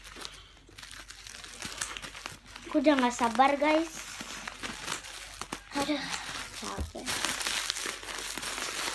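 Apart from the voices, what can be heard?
plastic packaging crinkling while being opened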